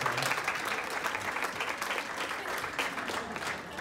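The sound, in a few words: conference audience applause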